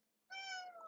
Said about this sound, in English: My cat's being talkative.